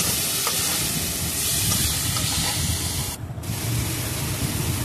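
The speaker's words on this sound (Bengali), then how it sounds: "এবারে সজনে ডাঁটাগুলো নিয়ে মশলার মধ্যে দিয়ে এগুলোকে একটু কষিয়ে নেওয়া হচ্ছে।" Drumsticks are stir-fried with spices in a pan while cooking Bengali sukto, producing a steady, loud sizzling and frying hiss with scraping stirs throughout and a brief dip midway.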